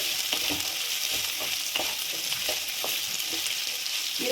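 Onions sizzle steadily in a hot pan with salt for tomato rice, a dense continuous hiss broken by soft scraping stirs.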